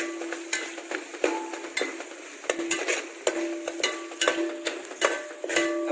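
A utensil stirs curry leaves into a sizzling goat head curry in a pan, giving a steady run of close scraping and clinking strokes roughly every half second over a soft frying hiss.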